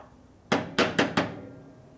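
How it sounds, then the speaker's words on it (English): Four sharp hammer blows strike a metal part of a 1973 Harley-Davidson Shovelhead motorcycle in quick succession, each a bright ringing clang that fades fast, with quiet in between. "I just beat on it with a hammer"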